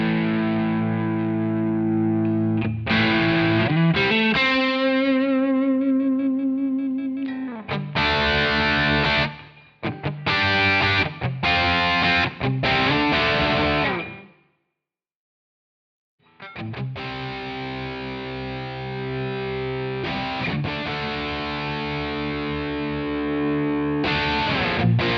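Electric guitar played through a capture of a Jack amp on a Quad Cortex, distorted chords and single-note runs with sustained ringing tones, a brief silence midway, then heavy strummed chords resuming; no talking.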